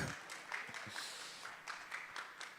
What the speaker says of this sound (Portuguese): Quem estiver aqui quiser recebê-los com uma salva de palmas aí, né?